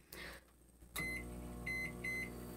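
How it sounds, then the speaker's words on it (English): A microwave oven is started to cook bacon: a door thump, then the oven's electronic beeps and the steady hum of it running, close and fairly quiet, with no talking. "So I'm going to put it in the microwave."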